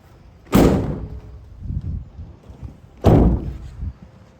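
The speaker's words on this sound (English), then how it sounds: "So that opens and slides back nicely" The sliding side door of a 2019 Citroen Relay 2.0 HDI van shows its wear, with two loud, close metallic clunks a few seconds apart and softer rolling thuds between them.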